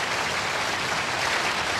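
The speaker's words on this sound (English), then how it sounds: "Now you can applaud." Studio audience applause on The Jack Benny Program, a steady, dense wash of clapping that stays loud and even throughout, with no voices.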